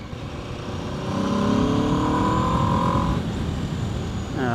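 A 2024 Aprilia RSV4 Factory 1100 sportbike with an 1100cc engine pulls hard while being ridden. The engine note climbs steadily in pitch, breaks off at a shift, and is backed by constant wind rush.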